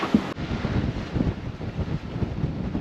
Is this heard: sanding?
no